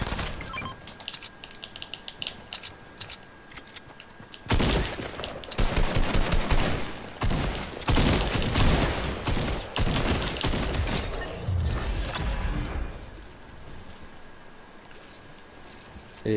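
Bursts of gunfire in the battle-royale video game Fortnite Chapter 2: rapid, loud automatic volleys break out after a quieter stretch and keep rattling densely for several seconds before easing off.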